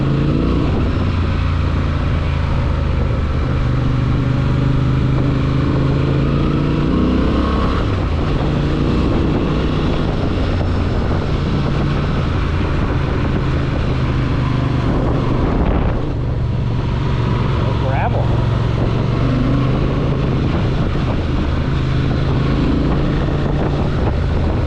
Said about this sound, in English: That engine noise is coming through with wind, but this thing sounds a little throaty.